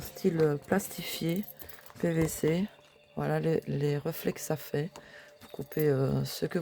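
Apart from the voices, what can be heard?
None of the usual background noises is heard.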